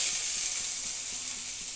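Onion frying in a pan for shahi chicken gravy gives a continuous bright sizzle, even and close, with faint ticking under it and no voices.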